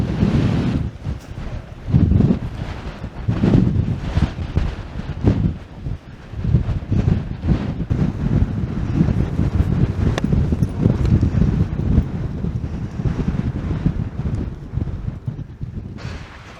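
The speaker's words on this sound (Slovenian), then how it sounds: "Piha pa, ko bi bili na nanosu." Strong wind gusts roaring across a mountain ridge on Košuta in the Slovenian Alps, a steady loud buffeting against the microphone with surging bursts throughout, no voices.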